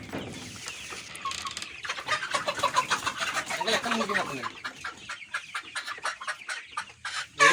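Chickens and roosters of the Tiger breed cluck on a farm, a steady flock chatter with louder calls near the end, mixed with people talking close by.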